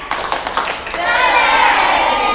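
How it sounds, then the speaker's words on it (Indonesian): Children in a girls' Quran study class clap a short rhythmic pattern together, then the claps break into a noisy wash of excited young voices and cheering, loud and close. "Tepuk keren."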